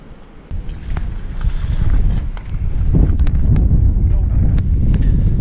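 Strong wind roaring and buffeting the microphone on the coast at Yamido, Gunsan, during shore fishing, a loud, continuous low rumble that builds and stays heavy, with faint voices underneath.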